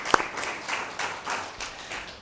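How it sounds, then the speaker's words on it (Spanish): Brief applause at an academic postgraduate lecture on parliamentary law, a short, fairly faint burst of clapping with one sharp clap at the start. "Un aplauso también."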